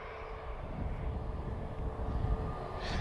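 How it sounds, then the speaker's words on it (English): A long-range Airbus A321neo airliner at Lisbon Airport gives off a distant, fairly quiet jet rumble that holds steady from start to finish. "A321 about to cross the Atlantic, so another long range Neo."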